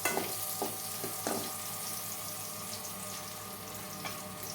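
Onions frying in a pan, a steady hiss of sizzling oil with a few stirring knocks near the start, moderately quiet and with no one speaking.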